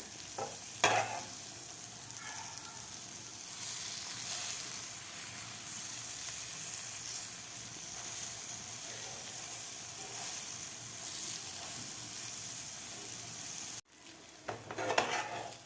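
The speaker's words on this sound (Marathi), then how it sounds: "दोन्ही बाजू आपल्याला व्यवस्थित फ्राय करायचे आहेत." Capsicum rings with egg fry in a pan, giving a steady, close sizzle with brief bursts of crackle near the start and again in the final seconds.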